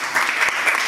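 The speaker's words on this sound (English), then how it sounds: "Round of applause." Audience applause at a lupus and skin medical symposium, a brief burst of dense clapping filling the hall for under a second.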